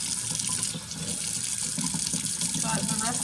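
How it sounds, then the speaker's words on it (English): Tap water runs steadily over freshly harvested garden lettuce being rinsed in a sink before spinning, a close, continuous splashing wash with no talk. "I'm just going to rinse off and put into the lettuce spinner."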